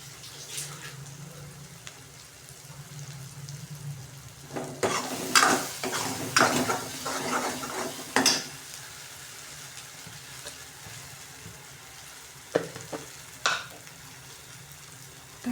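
Onion masala being stir-fried in oil for egg curry, with bursts of scraping and stirring in the pan over a steady low sizzle, busiest in the middle stretch and quieter toward the end.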